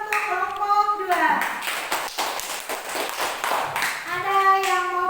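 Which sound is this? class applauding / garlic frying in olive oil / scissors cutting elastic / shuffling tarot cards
class applauding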